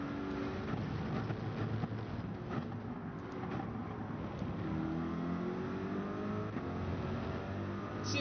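A racing car engine in the video game Gran Turismo 7 roars steadily, revving and shifting pitch as it accelerates, loud and continuous with no voices.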